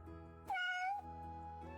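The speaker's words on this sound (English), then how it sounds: "I hear you, cat, I hear you." A house cat gives a single short, clear meow close by, sounding faint against a steady low indoor hum.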